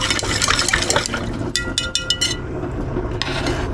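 Clear water being poured off settled ash during gold recovery from transistors: a steady, close liquid gush and splash with a few brief clinks and trickles as the flow tapers.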